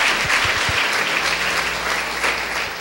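A church congregation claps together during a Spanish-language sermon, dense steady applause filling the space at a fairly loud level, with a few low thumps near the start and no talk over it.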